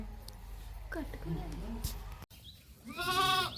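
Goats bleat in short wavering calls near the microphone, the loudest bleat coming at the end, with a voice talking in the background.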